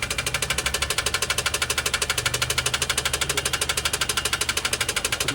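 A Toyota Wigo car engine running rough after taking in water, with a fast, even knocking clatter repeating steadily for several seconds at close range, no voices.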